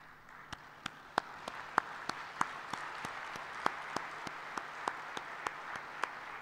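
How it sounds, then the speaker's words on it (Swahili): An audience applauds in honour of African coffee farmers at a Tanzanian presidential speech, a broad, quiet wash of clapping with sharp individual claps standing out at a steady pace. "naomba tusimame na tuwapigie makofi"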